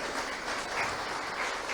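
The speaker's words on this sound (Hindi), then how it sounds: "जोरदार तालियां आपकी हो जाए प्लीज।" An audience at an awards ceremony applauds, a faint, steady wash of clapping heard from a distance without clear individual claps.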